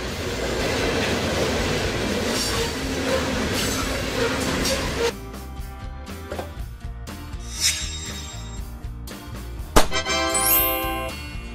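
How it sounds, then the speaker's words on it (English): A freight train rolls along the rails in a steady, loud rumble, then thins to lighter wheel noise with a few sharp clanks and a rising metallic squeal near the end. "Freight train, a train used to transport goods rather than passengers."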